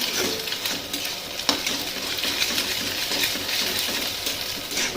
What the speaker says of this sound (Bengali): এবার দিয়ে দেবো একটু এর উপরে লবণ দিয়ে এরমভাবে নেড়ে চেড়ে নিয়ে